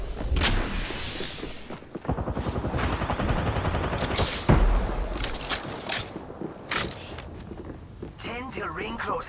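Gunfight in Apex Legends, with dense rapid automatic fire and heavy impacts that pile up into loud bursts, then choppier shots, under voice lines and talk.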